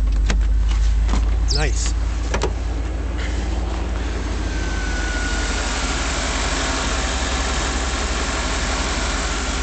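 A 1989 Chevrolet Silverado K2500 4x4 farm truck engine cranks and catches in the first seconds, then settles into a steady, loud, low idle that runs to the end; a person briefly speaks as it starts.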